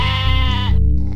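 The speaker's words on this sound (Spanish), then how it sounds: "Un grupo de ovejas forman un rebaño y este ruido se llama balido," A sheep bleats once, loud and close, a sustained wavering cry that cuts off abruptly, with no talking.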